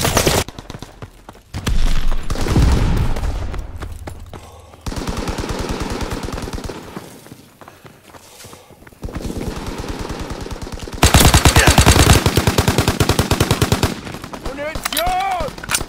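Bursts of Type 100 submachine gun fire in the Call of Duty WW2 video game, rapid rattling volleys with gaps, mixed with distant battle noise and shouted voices.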